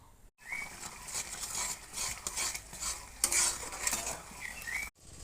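Food being stirred in a pan on a home stove, scraping and sizzling steadily up close for a few seconds, with brief silent gaps at the start and end.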